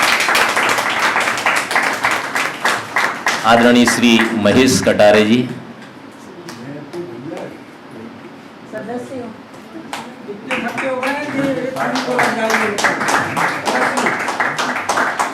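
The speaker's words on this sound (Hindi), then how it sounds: "हाँ, दद्दा का स्वागत तालियों से।" Crowd applause at an honouring ceremony of a story-writing workshop comes in two loud stretches, with a quieter gap between them, while a presenter speaks over the clapping.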